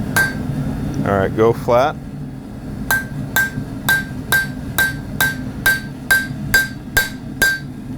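Hammer blows ring on hot steel being forged into a knife, about a dozen sharp metallic strikes in a steady rhythm, close and loud, after a brief spoken instruction.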